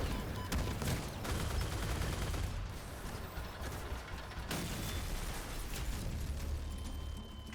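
Vehicle-mounted weapons fire continuously in the Crossout combat game, a dense, loud barrage of overlapping gunfire and mechanical clatter with sharp bursts throughout, no talk.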